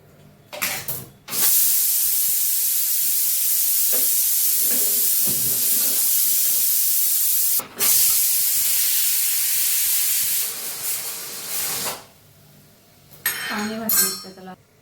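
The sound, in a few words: pressure cooker opened, releasing steam after cooking dal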